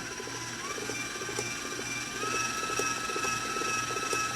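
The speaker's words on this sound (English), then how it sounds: "I'm going to turn the mixer up to a higher speed" A stand mixer whips gelatin and sugar syrup for homemade orange marshmallows at high speed, giving a steady, close mechanical motor whine with a fast rhythmic churning beneath it.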